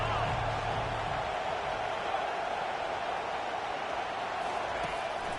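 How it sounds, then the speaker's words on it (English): Crowd noise in an NCAA football video game swells on a 3rd-down defensive stand as a steady, loud roar of massed voices. "Decibels rising as the crowd gets behind this defense on 3rd down."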